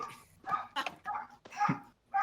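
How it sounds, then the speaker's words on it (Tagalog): A dog gives several sharp barks and yips in quick succession, fairly close, with a bit of whimpering mixed in. "Kanina pa tumatahol yung aso niyo."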